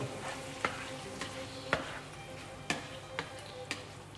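Chopped tomatoes being stirred into chili con carne in a pan, with a low sizzle and evenly spaced spoon taps and scrapes against the pan, close but faint, no talking.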